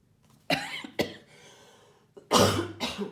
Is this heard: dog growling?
no